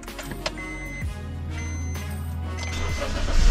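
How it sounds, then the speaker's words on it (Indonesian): A 2014 Honda Mobilio RS car engine cranks with the starter and catches into a steady low idle, heard close up inside the car, rising slightly toward the end. "kita starter aja mobilnya"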